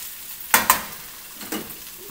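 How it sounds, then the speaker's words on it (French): Mushrooms frying with garlic in a pan as they release their water, heard as a soft sizzle broken by a few sharp clacks of stirring utensils against the pan. "On attend que les champignons aient perdu leur eau."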